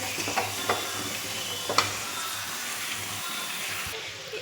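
Spices fry in a pan for radish sambar, a steady close sizzle with a few light clicks of a stirring spoon scattered through, continuous and without talk.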